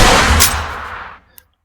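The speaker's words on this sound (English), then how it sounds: "I will fire it a couple of times just to demonstrate" A .500 Magnum revolver fires a single loud, close shot in the Boneworks video game, a sharp blast followed by a long fading tail, then a faint click.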